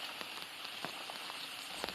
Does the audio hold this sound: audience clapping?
no